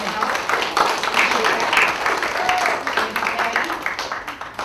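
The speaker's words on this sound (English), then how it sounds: "So if we could get a round of applause for Patty and everything she's doing to help." Audience at a summer intern presentation event applauding, a sustained crowd of clapping hands with uneven rhythm throughout, fairly close and loud, with some voices mixed in.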